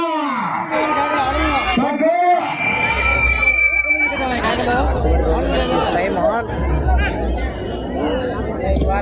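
A crowd at a village bull race shouts, whoops and cheers loudly and continuously, with overlapping voices and excited calls close by over a steady low rumble.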